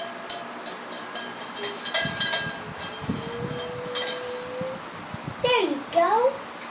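A spoon stirs food-coloured water in a glass, clinking against the sides in a quick, repeated rhythm before slowing, with a voice and light rustling in the background.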